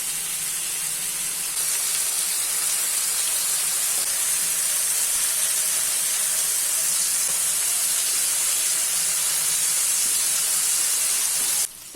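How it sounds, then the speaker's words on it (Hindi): Marinated chicken tikka pieces frying in a pan over medium flame, giving a steady, loud, broadband sizzling hiss that holds unbroken for the whole stretch with no voices. "अभी इसको सभी साइड से मीडियम फ्लेम पे 8 से 10 मिनट तक फ्राई कर लेना है।"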